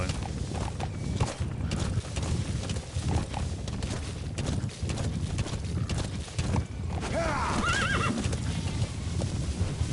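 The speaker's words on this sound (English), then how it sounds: "I'll go get the horse." A horse in the Metal Gear Solid V video game whinnies loudly several times over steady clip-clopping hoofbeats, with a sharp high neigh near the end.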